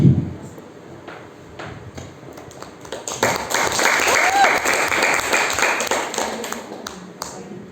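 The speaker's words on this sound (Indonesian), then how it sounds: "Sekali lagi tepuk tangan dong untuk Pak Sabir ya" Applause from an audience at a school competition, swelling after a quieter stretch with scattered knocks and taps into dense, loud clapping that carries on to the end.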